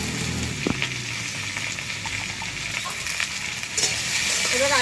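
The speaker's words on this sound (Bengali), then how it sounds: "গরম তেলের মধ্যে ধুয়ে রাখা আলুগুলো দিয়ে দেবো" Washed potatoes drop into hot oil in a pan and fry with a steady, dense sizzle, close and continuous, with a few clinks of stirring and no talk.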